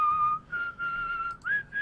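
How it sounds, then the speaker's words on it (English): A person whistles a short tune: several clear, sustained notes in a row with brief gaps and a rising note near the end, close and alone. "Very good whistling."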